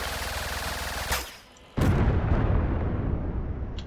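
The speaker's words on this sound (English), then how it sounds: "And then those guns will fire too." Guns on a custom-built vehicle fire in the video game Trailmakers, a dense, loud roar of gunfire that cuts out briefly with a sharp crack, then resumes as a sustained barrage with no talking.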